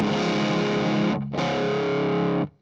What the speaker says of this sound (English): So I've got my bass edge of breakup tone